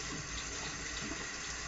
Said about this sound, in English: rinse the stone under running water until it's completely cleaned